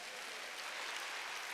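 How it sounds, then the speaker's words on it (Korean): Church congregation clapping during a Wednesday worship service, a faint, distant, even patter of many hands that holds steady throughout. "박수 주세요"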